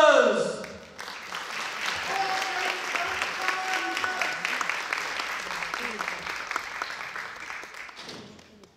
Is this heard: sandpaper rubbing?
no